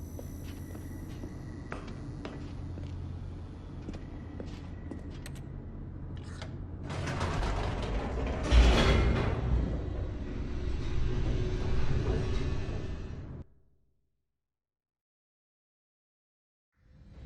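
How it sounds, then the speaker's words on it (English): An elevator in the video game The Stanley Parable: Ultra Deluxe descends with a steady mechanical rumble and creaks that swell into a louder rushing surge, then cut off abruptly into silence. "The elevator raced downward, plummeting towards an unknown fate."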